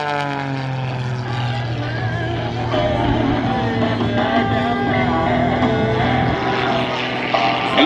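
A de Havilland Super Chipmunk propeller plane flies aerobatics at the Battle Creek airshow, its engine note rising and falling, loud and continuous with no speech.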